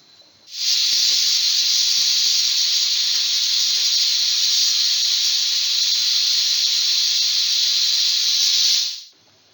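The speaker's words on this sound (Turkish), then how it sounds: "Yaklaşır yaklaşmaz fıs diye bir ses duyuldu." A loud, steady hiss of escaping steam from a cooking pot starts abruptly, holds evenly for about eight seconds, then cuts off.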